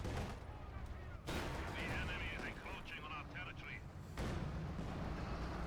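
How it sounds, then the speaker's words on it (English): Heavy gunfire and artillery in the World War II strategy game Company of Heroes 2, with OKW forces fighting Soviet troops: a dense, continuous roar of firing and blasts that stays loud throughout, with a commentator talking over the battle. "Heavy firing, heavy damage there."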